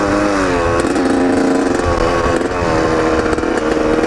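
A Honda CR125 two-stroke dirt bike is ridden, its loud, close engine rasping and rising in pitch through the gears at steady high revs.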